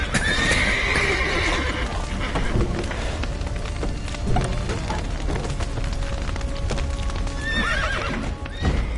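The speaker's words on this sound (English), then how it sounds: "The horses!" Horses neigh and whinny loudly over stamping hooves in The Witcher 3 video game as a roof collapses, with creaking, splintering wood and rumbling noise throughout.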